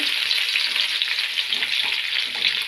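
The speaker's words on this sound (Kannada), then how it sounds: "ಈರುಳ್ಳಿ ಚೆನ್ನಾಗಿ ಫ್ರೈ ಆಗಬೇಕು" Onions frying in a pan after mustard seeds, a steady bright sizzle with faint stirring and scraping, close and continuous without speech.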